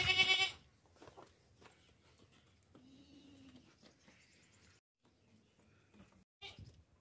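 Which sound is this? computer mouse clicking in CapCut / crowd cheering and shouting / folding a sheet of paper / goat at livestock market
goat at livestock market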